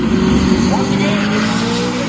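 A drag racing car at a Sick Week 2023 event runs down the strip toward the finish line, a loud sustained engine roar with rising pitch, heard from a distance over steady crowd and announcer ambience.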